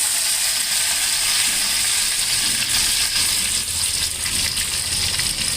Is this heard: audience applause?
no